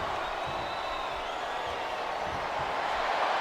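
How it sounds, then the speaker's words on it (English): Arena crowd noise from the wrestling video game WWE SmackDown vs Raw 2008 forms a steady, distant roar of cheering and murmur, with faint commentary voices underneath. "This sellout crowd just can't get enough of these superstars."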